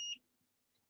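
A Fluke multimeter's continuity beep sounds once at the start, short and high, then quiet follows.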